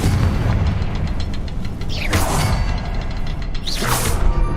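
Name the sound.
Confringo spell explosion in Hogwarts Legacy video game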